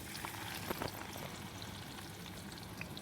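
Fenugreek seeds, onion and amla frying in hot oil for a homemade Ayurvedic hair oil, giving a steady, dense sizzle with scattered small crackles and no voices.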